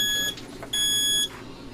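A household smoke detector sounds two sharp, high-pitched electronic beeps separated by a short pause, each about half a second long, clear and close over a quiet room.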